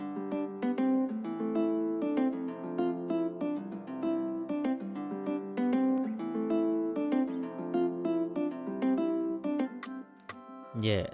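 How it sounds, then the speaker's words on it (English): Nylon-string acoustic guitar patch from the Hypersonic synth, fingerpicked notes in a steady flowing pattern with sustained harmonics, loud and close with no voices, ending with a brief low thump. "It's a sound from Hypersonic. So it's nylon finger acoustic guitar."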